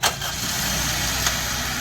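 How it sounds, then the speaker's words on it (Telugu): A 2022 Maruti Swift Dzire engine starting, with a brief cranking burst at the start that settles into a steady, close idle hum with a slight knock partway through. "అలాగే ఇంజిన్ కూడా ఒకసారి మీకు స్టార్ట్ చేసి చూపిస్తాం"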